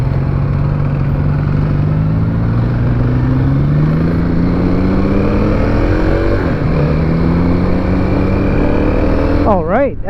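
A 2021 Kawasaki KLX300 dual sport motorcycle ridden through traffic, its engine loud and close, with steady wind rush and rising revs through the gears, plus a brief rapid wobbling note near the end.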